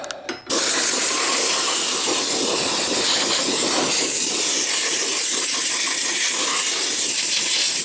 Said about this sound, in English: Oh, the smell of brake clean.